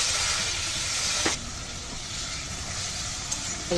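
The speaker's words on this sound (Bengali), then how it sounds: "হালকা একটু জল দিয়ে কষিয়ে নেবো মশলা" Loud, steam-like hiss rises as a little water meets frying masala in a pan, a dense broadband sizzle that eases slightly after a brief clatter, continuing steadily close up with no voices.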